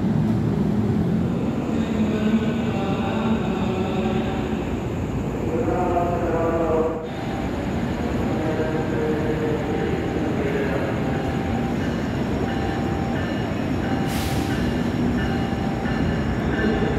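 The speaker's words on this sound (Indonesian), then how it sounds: "itu ada KRL komuter lain" An electric KRL commuter train rolls past in Indonesia, a loud continuous rumble of wheels and motors with a brief tonal whine, a sharp dip midway and a faint high squeal near the end.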